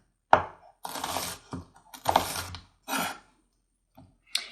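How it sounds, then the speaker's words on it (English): A knife chopping an onion on a cutting board, several separate crisp strikes with short pauses between them, close and fairly loud with no talking. "And the onion piece is getting smaller to cut"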